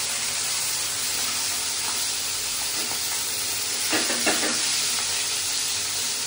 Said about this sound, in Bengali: বন্ধুরা এখন মাছ ভাজা হচ্ছে